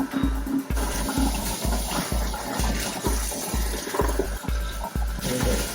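Tap water runs steadily and rushes loudly as an aquarium filter canister is rinsed out. The flow is close and continuous and breaks up slightly as the water hits the canister.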